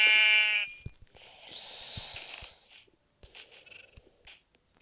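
A Minecraft sheep bleats loudly up close, followed by a harsher bleating call and some scattered soft clicks and faint sounds.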